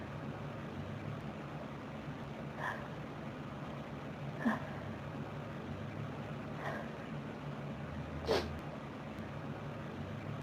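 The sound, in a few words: dog sneezing fit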